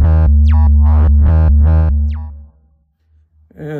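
NVO synthesizer oscillator A alone under frequency modulation, playing a loud run of rhythmic bright tones with quick downward pitch zings, ending in near silence before a short tone returns.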